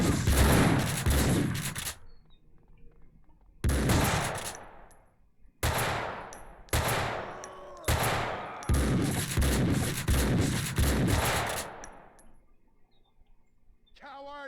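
Max Payne 2 firefight: heavy, loud bursts of gunfire in rapid repeated volleys, with short gaps between salvos and echoing tails, dominating the scene.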